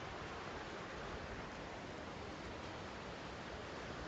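Lytle Creek in California flows with a constant broadband rush of water, an even, unbroken hiss that stays soft and steady throughout, with no voices.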